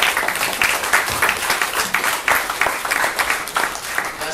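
An audience at a Go-Jek and DSSG talk session gives a round of applause for the speakers. Dense, steady clapping from many hands fills the whole stretch without a break.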